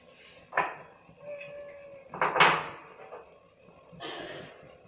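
A spoon scrapes and clinks against a cooking pan holding paneer bhurji, a few scattered metallic strokes at close range with quiet gaps between them and no talk.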